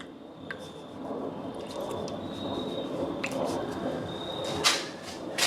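Liquid trickles and drips as battery cells of a Toyota Prius hybrid are topped off with acid and distilled water, a soft steady pour with occasional small clicks and taps, close and moderate.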